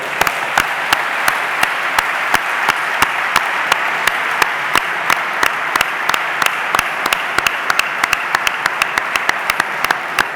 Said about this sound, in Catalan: un aplaudiment al xef Joel Castanyer i a l'Escola d'Hostaleria de Barcelona.